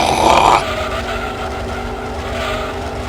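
A 1960s Ford race car engine growling in the video game Gran Turismo 2, a loud rumbling note that surges briefly and then settles into a steady drone.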